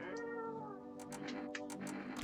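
A cat meows once in a short, close, tonal call, followed by a few soft clicks against a steady background hum.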